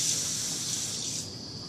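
Water is poured into an Erlenmeyer flask during a greenhouse gas lab demonstration. It makes a steady, continuous hiss of pouring close by, with no talk over it.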